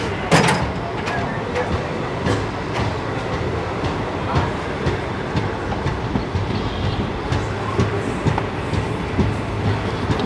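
Kanchanjungha Express passenger train pulling out of Dakshineswar station, a steady rumble with rhythmic clickety-clack of wheels over rail joints heard from on board, with faint voices mixed in.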